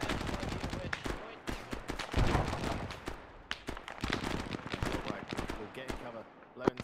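Gunfire in Arma 3 crackles through a firefight near apartment buildings, with rapid irregular shots and bursts, some close and sharp, others more distant, under faint game chatter.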